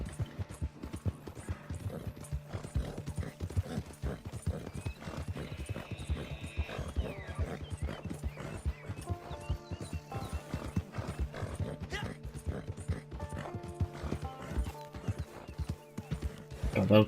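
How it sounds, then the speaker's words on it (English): Horse galloping in Red Dead Redemption 2, a fast continuous patter of hoofbeats with jingling tack and occasional snorts, running under someone talking throughout. "O cavalo cansa bem rápido."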